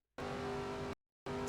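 Busch Series race car engine at Daytona in a racing video game, a steady loud drone that cuts out briefly and then resumes, with no voices.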